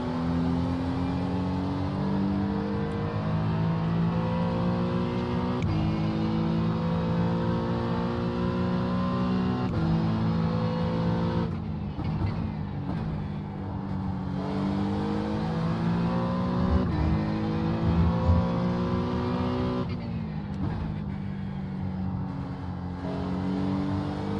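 GT3 race cars lapping in the iRacing sim at Watkins Glen, a loud continuous engine whine rising through the gears with sharp drops at each upshift, repeated over a long stretch without talk.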